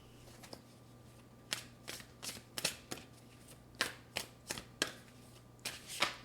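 Oracle cards being shuffled by hand, a series of crisp, riffling bursts in an uneven rhythm, close and fairly loud against a quiet hum, with no talk.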